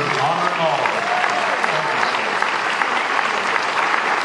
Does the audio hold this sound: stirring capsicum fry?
no